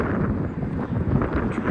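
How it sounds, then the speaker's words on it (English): Wind gusting around a parked 2012 VW California SE camper with its awning up, heard as a low, buffeting rumble of wind hitting the microphone, fairly loud and unsteady for a brief moment. "It's getting a bit windy at the moment, so I'm hoping the awning is alright."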